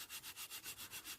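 The smooth back of sandpaper rubs a wooden floor being repaired in quick, even back-and-forth strokes, a soft, steady hiss pulsing about seven times a second, close and faint.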